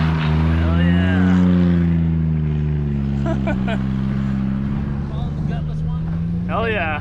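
Station wagon engine revving and droning loudly on a rough ATV trail during an off-road rally, steady low rumble with gear changes, while people cheer and talk over it.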